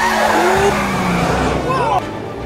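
A car in a film chase scene revs hard and accelerates, with tire squeal and skidding mixed into a dense engine roar, and people talk over it throughout.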